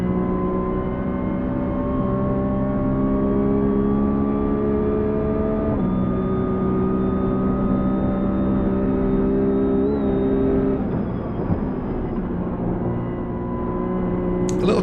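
A Porsche drifting on a wet track in a sim racing game gives a steady, loud engine drone with sustained revs and shifting pitch, a gear change near the middle and tire hiss underneath, with no voices.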